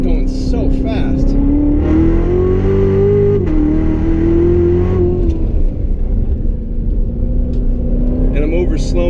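Chevrolet Corvette Z06 with Z07 package and automatic gearbox accelerating hard around a figure-eight track, a loud steady engine drone climbing in pitch through the gears, with someone talking over it.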